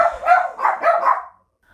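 Dogs barking in a quick series of close, loud barks for about a second and a half, then stopping into silence.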